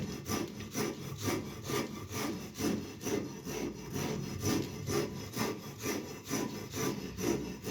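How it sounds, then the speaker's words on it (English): Maize is ground into flour by hand on a stone, making a rhythmic scraping rub about once every half second, steady and fairly close, with no voices. "they grind like that to bring out flour for ugali or"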